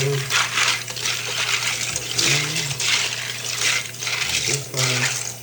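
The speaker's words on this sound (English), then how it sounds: "Just wash it real good." Mechanical keyboard keycaps being washed under running water, a loud close rush of water with rattling plastic pieces knocking about in pulses.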